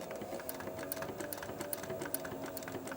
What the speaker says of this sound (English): I'm going to sew along here